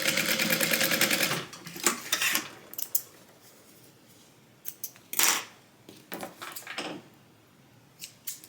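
A sewing machine stitches along a folded piece of frayed tote-bag webbing in one fast, loud run, followed by scattered clicks and handling knocks at a close workbench.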